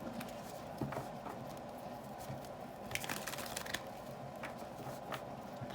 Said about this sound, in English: Apologize if the shuffling is a little loud.